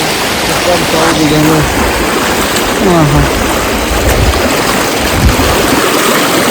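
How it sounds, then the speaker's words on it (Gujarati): Steady rushing of a flowing stream fills the scene, close and loud, while people talk over it. "પાણી આવે છે ને"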